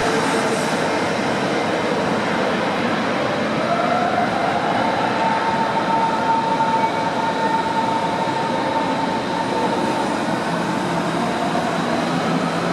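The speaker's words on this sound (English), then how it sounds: "Firstly, here is the S-Bahn." A Berlin S-Bahn train at Berlin Central Station (Hauptbahnhof) rumbles steadily close by for the whole stretch, with a faint rising whine of the motors partway through and a constant hum of the station around it.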